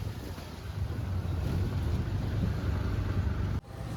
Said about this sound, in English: I hopped in a tuk-tuk to my hostel.